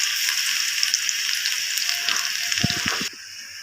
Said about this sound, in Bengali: সেই থেতো করা রসুনগুলো দিয়ে দিচ্ছি।